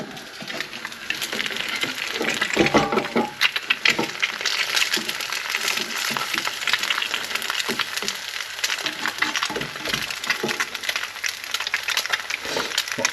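An egg frying in a pan as a topping for pork and kimchi fried rice, with close, continuous crackling and popping sizzle that rises and falls.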